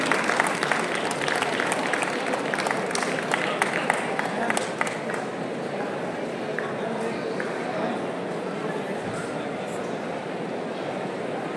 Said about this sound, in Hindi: तालियां बजा के इनका भी स्वागत कीजिए